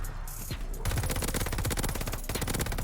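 Cooper Carbine in Call of Duty firing in long, dense bursts of rapid automatic shots after a brief lull, loud and close, with a short pause near the end before the fire resumes.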